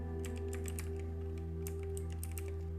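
Quick bursts of clicking keys on a computer keyboard, typing a terminal command on a Windows machine, close and steady over a constant low background hum.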